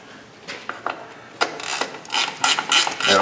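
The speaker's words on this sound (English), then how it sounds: "So we're going to put the drain plug back in the transfer case here." Hand ratchet turning a drain plug into a vehicle transfer case of a Cadillac Escalade or Chevy Tahoe, a series of close, sharp clicking strokes, sparse at first and then quicker and louder.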